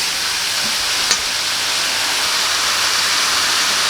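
Half a kilo of okra sizzles in a pan for a large family lunch, giving a steady, loud frying hiss throughout, with one brief clink of stirring.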